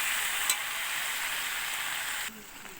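Chicken sizzles and crackles steadily in hot oil while being sautéed and stirred with ground chilli paste for chicken kosha, a dense continuous fry that drops slightly quieter near the end, with one brief scrape of stirring.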